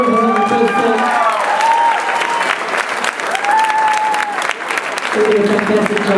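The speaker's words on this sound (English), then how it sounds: "let's give them a round of applause, the choreographers on the first day." A concert audience at a Christmas show applauds the choreographers with loud, sustained clapping and light cheering, while a person talks over the crowd.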